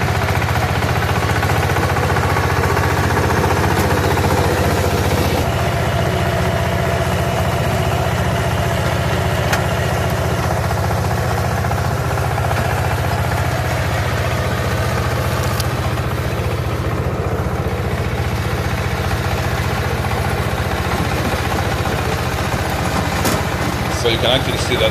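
A walking tractor with a rotavator tilling a field drones loudly and steadily throughout. The engine hum stays continuous at a constant pitch, close by, with no pauses.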